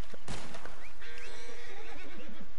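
Horse in the Red Dead video game letting out a short whinny after a sharp thump, heard amid game ambience at moderate volume.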